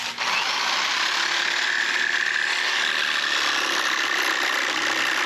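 A power tool cuts a small angle on a metal strip for a gas can holder on a cargo camper, a steady loud continuous whine running the whole time with no talk.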